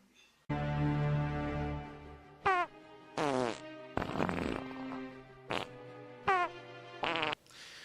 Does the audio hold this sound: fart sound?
yes